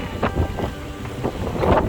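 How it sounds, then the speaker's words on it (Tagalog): Wind buffets the microphone in strong, rumbling gusts, loud and continuous, with no voices. "Guys, napakahangin na dito."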